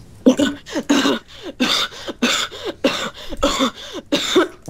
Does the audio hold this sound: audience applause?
no